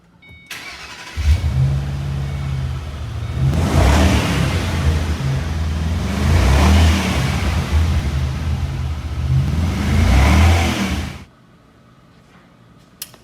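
Ford Performance Stage 3 Mustang V8 cranks to life and settles into a loud idle, then gets several strong revs with rising and falling engine pitch before cutting off abruptly into near silence.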